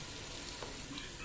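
Onions fry in a pan for ghee rice, giving a steady, even sizzle that fills the whole brief moment at a soft, low level, with no voices.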